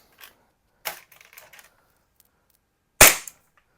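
A Double Bell airsoft pistol in the 796 .45-style series is fired over a chronograph. Three sharp snapping shots are spread apart, with a scatter of small clicks between them. They are close and dry against silence.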